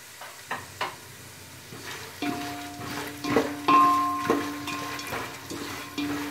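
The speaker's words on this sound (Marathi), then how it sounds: "व्यवस्थित फ्राय करा" Lentils fry in oil for a puffed rice chivda, a light sizzle broken by scraping and clinking as a utensil stirs the pan at an uneven pace.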